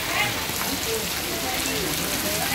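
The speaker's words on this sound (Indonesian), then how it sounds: "Kita menunggu hujan sampai reda, baru nanti kita lanjutkan perjalanan berikutnya." Steady rain pouring down at the Monumen Pancasila Sakti grounds at Lubang Buaya, a dense, even hiss of drops that stays constant throughout.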